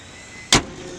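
Battery hold-down clip on a 2016 Nissan Rogue snapping into place under the hood, a single sharp, close click over quiet background, no talk.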